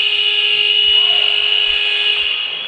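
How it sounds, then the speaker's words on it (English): The full-time buzzer at a futsal match in the FA National Futsal Series sounds as a loud, steady, high-pitched electronic tone, sustained unbroken for several seconds. "And there the buzzer goes to signal full time."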